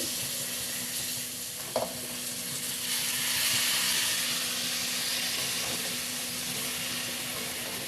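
Mixed vegetables, seven kinds, dropped a little at a time into hot oil with fried spices for a vegetable curry, giving a steady close hiss with a brief clatter and a swell of stronger sizzling.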